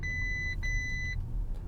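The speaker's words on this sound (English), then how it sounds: "I didn't push the hood down all the way. It beeps to let me know." An Audi e-tron Chronos sounds its hood-open warning, two steady electronic beeps in quick succession over a low rumble of the car's road noise.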